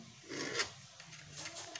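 A file rasps across the teeth of a hand saw while it is sharpened, with a few quick, soft strokes, close but faint.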